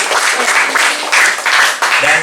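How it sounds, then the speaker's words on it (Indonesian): Audience applause breaks out in a church youth gathering as a young woman is called forward, a steady dense clapping that fills the short stretch with no talk over it. "Tepuk tangan."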